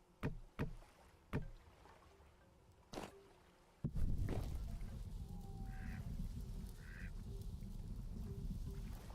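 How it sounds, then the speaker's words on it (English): Ducks quacking in the survival video game Vintage Story, faint calls in a steady outdoor ambience after some louder knocks and thuds, with no talking. "The duck sounds make me..."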